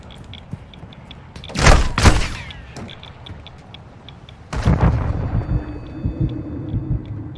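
Gunfire in a cave shooter video game, a few heavy booming shots in separate bursts, with muffled thuds between them, loud and close.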